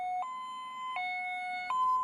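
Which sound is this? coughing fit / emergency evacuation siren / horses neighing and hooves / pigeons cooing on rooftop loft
emergency evacuation siren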